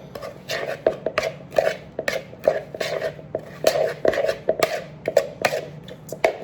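Salmon patty ingredients mixed in a bowl, a busy run of close rhythmic clacks and scrapes of a utensil against the bowl, steady and fairly loud.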